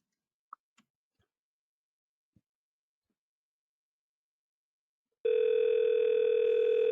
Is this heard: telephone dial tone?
yes